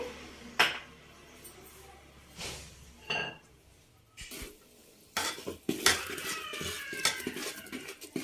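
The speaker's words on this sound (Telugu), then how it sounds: "ఇలా కొంచెం కొంచెం పోసుకుంటూ కలపాలండి చలివిడికి." Wheat flour being stirred into a pan for Sankranti ghee ariselu dough, with scraping and clinking of a spoon against the metal pan in irregular bursts that grow busier toward the end, close up.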